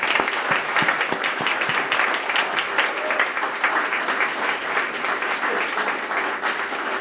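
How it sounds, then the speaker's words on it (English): Audience applause for students at a Brockton High School alumni awards ceremony in Massachusetts, a steady dense clapping that holds fairly loud and even for the whole stretch. "So let's give a round of applause to all our students in Brockton."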